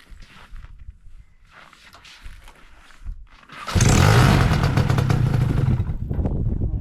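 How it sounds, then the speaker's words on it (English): A small primed gas engine catches after a few quiet seconds of handling noise, then fires up and runs loud and steady with a rough, rattling idle close by. "I primed it just a tiny bit already, so I'm hoping it just fires up."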